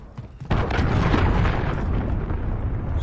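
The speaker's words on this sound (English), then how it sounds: "Enemy cruise missile." A cruise missile explosion in the Modern Warfare video game: a short lead-in, then a loud, close, sustained boom with a thick rumbling roar that keeps going to the end.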